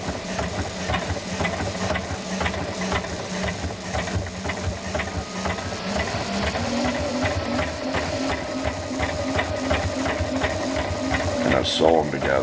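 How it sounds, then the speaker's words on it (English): Sewing machine stitching a zigzag stitch, a steady rhythmic mechanical whir and tapping that runs continuously, close and fairly loud, with a rattling shift near the end. "it'll make a nice little zigzag stitch"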